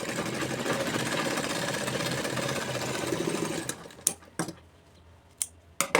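A sewing machine stitches the pocket of palazzo pants, running in a fast steady whir for about four seconds, then stopping with a few short bursts and clicks.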